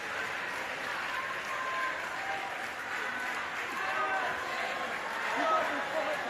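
Spectators at a Paris 2024 wheelchair men's singles table tennis match applaud in a steady, moderately distant wash of clapping that swells slightly near the end, with commentary running over it.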